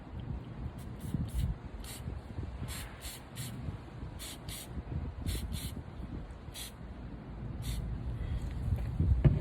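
Black spray paint hisses from a can onto a sanded, washed tumbler in a series of short bursts, close and crisp, with quiet handling noise between sprays.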